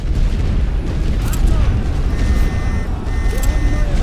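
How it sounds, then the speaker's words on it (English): Artillery suppression barrage in The Great War: Western Front, a steady dense rumble of distant booms and blasts rolling on without a break, with faint tonal whistles above. "I'm going to put a suppressor barrage down just in case."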